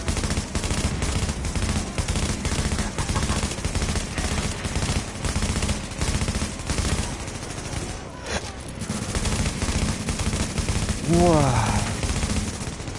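Sniper gunfire rattles through a video game firefight in dense, rapid bursts over a busy mix of effects, with players talking over it.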